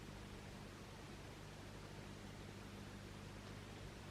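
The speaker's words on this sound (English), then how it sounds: "Playing box fan sound every single night" Recorded box fan noise plays as a steady, even broadband whoosh with a low hum underneath, constant and unchanging throughout, moderately quiet with no voices.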